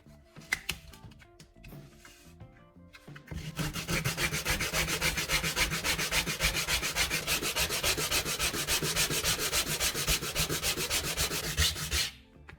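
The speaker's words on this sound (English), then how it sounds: "After the cut, I take a piece of sandpaper and smooth that fresh edge." Hand sanding a freshly cut wooden edge with sandpaper: after a few light taps, rapid rhythmic back-and-forth scratching strokes run steadily for about nine seconds, close and clear, then stop abruptly.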